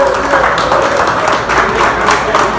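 Audience at a hip-hop and Kreyòl rap anniversary conference applauding, dense steady clapping from a crowd, loud and sustained throughout.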